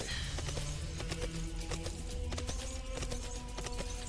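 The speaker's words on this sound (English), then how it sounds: "When the horse makes that sound" A horse in the video game Sacred 2 clip-clops along with steady, dense hoofbeats over continuous game music and ambience, with a whinny-like tone mixed in.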